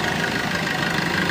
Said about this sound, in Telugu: ఇంజన్ సౌండ్ అయితే చాలా బాగుంది, బీటింగ్ పర్ఫెక్ట్ ఉంది.